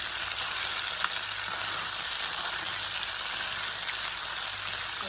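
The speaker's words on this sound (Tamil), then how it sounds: "நல்லா வந்து ஃப்ரை ஆகிட்டோம்" Mutton chops fry in oil in a home-style Tamil kitchen, giving a steady, close, dense sizzle and crackle with no pauses and no talking.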